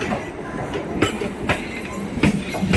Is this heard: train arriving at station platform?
yes